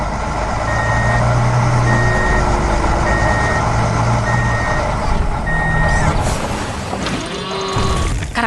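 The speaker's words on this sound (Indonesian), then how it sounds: "Sekarang truk hijau sedang berjalan melewati medan hijau yang menyenangkan." Green truck in an animated cartoon, with a loud steady engine rumble and a regular beeping like a reversing alarm repeating about once a second, followed by clanking mechanical sounds near the end.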